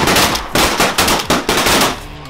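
Shotguns fire during a late-season duck hunt, a fast burst of about six loud, close blasts in quick succession that almost run together, with no voices between them.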